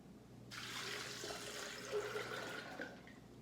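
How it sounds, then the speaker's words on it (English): Purified water poured steadily onto almonds in a blender jar, a continuous close splashing rush that begins abruptly and runs for a few seconds without talk. "4 cups of purified water"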